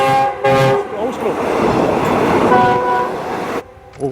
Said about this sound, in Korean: 기차가 엄청. 기차 또 오고 있어.